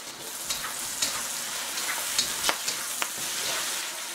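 Carrots fry in a hot pan with a steady close sizzle, broken by a few sharp crackles and stirring scrapes.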